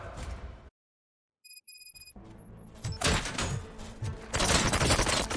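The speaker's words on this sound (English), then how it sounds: "Gunshots? What's going on?" Gunfire in the video game Robocop: Rogue City, a loud, dense burst of shots and impacts that builds after a brief silence and stays heavy to the end, with chiming game tones in between.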